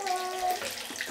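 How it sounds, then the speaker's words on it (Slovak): Water running from a tap into a sink or tub, a steady hissing splash close by, with a voice faintly present. "No zastav vodičku už."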